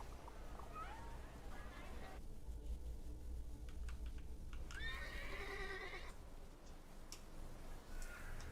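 A horse whinnies at moderate distance amid steady background noise, its call rising and wavering in a couple of brief bursts, with muffled voices and faint ticking around it.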